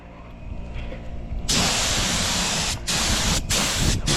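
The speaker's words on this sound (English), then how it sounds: "did the first coat of clear coat, right, took it light" A spray gun lays clear coat onto a Honda Civic body panel outdoors in some wind, the loud hissing spray starting abruptly and breaking off in two short gaps between passes.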